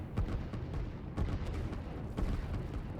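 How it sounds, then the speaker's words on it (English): Dense artillery and gunfire from the strategy video game Line War, with overlapping booms and shots rolling continuously and several heavier bursts standing out. "There's a lot more red guns shooting than blue guns."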